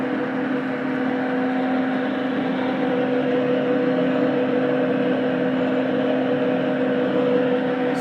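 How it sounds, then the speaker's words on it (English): A home-built lathe fly-cutting attachment with a rotary table and indexer cuts a worm gear wheel blank on an arbor, giving a steady mechanical whir with a constant tonal hum that runs unbroken throughout. "this is a contraption I built for fly cutting worm gear wheels"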